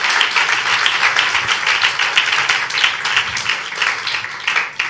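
A church congregation claps hands throughout a Father's Day service, a loud, continuous, rhythmic patter of many hands close by with no break.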